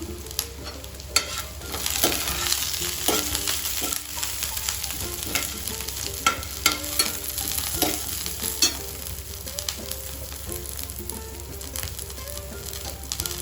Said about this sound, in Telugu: మనం అల్లం వెల్లిగడ్డ పేస్ట్ వేస్తున్నాను